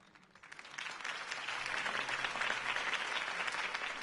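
Video game crowd applause in Telltale's Batman swells from quiet to a full, steady roar of clapping and holds there, with no voices standing out.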